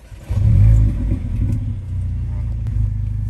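A Mercedes-AMG A-Class engine fires up with a loud surge, then settles into a deep, steady idle rumble with small swells of revving, close by.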